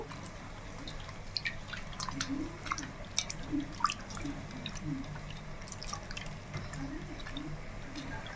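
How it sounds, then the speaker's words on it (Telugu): Soft wet squishing and dripping as tamarind is squeezed by hand in water for a fish stew, small irregular squelches close up and quiet throughout. "మనం చింతపండు కూడా మెత్తగా ఇలా పిసికేసుకుందాము"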